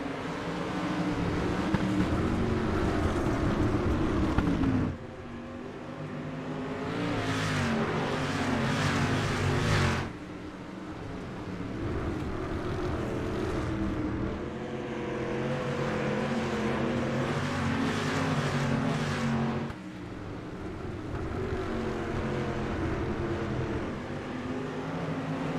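Dirt street stock race cars roar around the track in the iRacing sim, a continuous engine drone that rises and falls as the field runs single file, with abrupt shifts in tone between passes.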